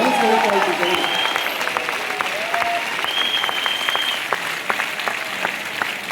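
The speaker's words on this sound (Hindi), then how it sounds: "अगर बता सकते हो तो आज तालियां बजा लो" Audience applause at a live motivational speech event, a broad wash of crowd clapping filling the space with scattered sharper claps and some voices or calls rising through it.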